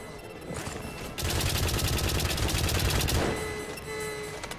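Automatic turret fire in the horror climbing game White Knuckle, a fast, steady rattle of shots that starts abruptly, keeps a hard even rhythm for about two seconds, then stops, with low rumble around it.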